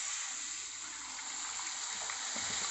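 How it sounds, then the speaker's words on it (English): Water is poured into a pan of fried semolina while making kada prasad halwa, giving a steady, even hissing gush that runs without a break and with no voices. "I'll add water into it."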